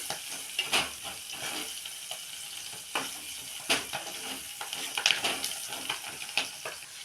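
Potato tomato curry sizzling in a pan, a steady fry hiss broken by periodic scraping stirs, close and continuous with no voices.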